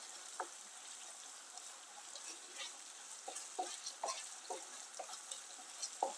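Tomato paste frying with onions in a pan, giving a steady close sizzle with scattered crackles and the occasional scrape of stirring.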